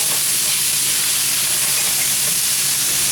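Beef browning in a pan for goulash, a loud continuous sizzle and hiss, steady and close with no pauses.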